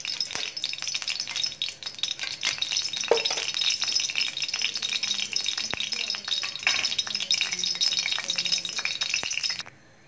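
Oil crackles and sizzles steadily in a hot kadhai, a continuous bright frying hiss with faint clinks of a spoon, fairly close, stopping abruptly near the end.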